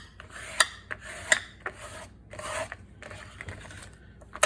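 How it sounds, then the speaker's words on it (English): A folded paper accordion pocket is burnished by hand at close range, giving rhythmic rasping rubs in short strokes with a few sharp tapping clicks between them. "Okay, now I want to burnish it well."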